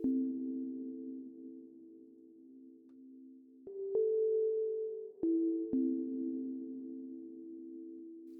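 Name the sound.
ambient synth with hybrid reverb, echo and grain delay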